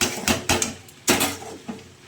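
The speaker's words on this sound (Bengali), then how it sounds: "ভাতে হাঁড়ি ঠুকবি না।" A metal rice pot is knocked during cooking, giving several sharp clanks in an uneven sequence of about five hits, close and fairly loud, with no talking.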